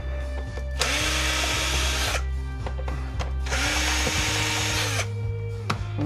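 Power drill backing screws out of a battery-powered handheld vacuum cleaner, two sustained whirring runs of a couple of seconds each with brief pauses, close and fairly loud, then a short clatter.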